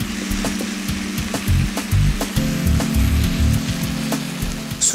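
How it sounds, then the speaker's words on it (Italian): Cubes of meat are stirred into cooking onions in a pan for Eritrean and Ethiopian zighini, giving a steady close sizzle with repeated scraping and clacking from the stirring. "Aggiungiamo i cubetti di carne, mescoliamo bene in modo che la carne possa essere insaporita dalle cipolle."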